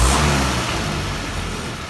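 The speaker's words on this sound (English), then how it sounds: "when I put the throttle full open, it hesitated, but now it's not hesitating" A Land Rover Series 3 engine revs hard at full throttle, loud and close, the roar fading slightly as the revs drop over a couple of seconds, with no voices.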